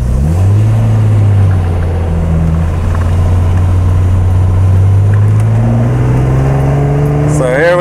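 A 320hp Datsun 240Z on a touge rally drive revs up loudly and close, holding a steady engine drone that climbs in pitch as it accelerates, while voices speak inside the car.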